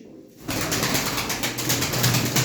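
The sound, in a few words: pigeons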